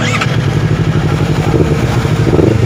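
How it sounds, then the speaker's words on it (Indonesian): A Honda CBR 250 RR motorcycle engine runs loudly and close, a rough, fast-pulsing idle that swells slightly as it revs toward the end, with no voices over it. "Kita coba hidupkan motornya ya."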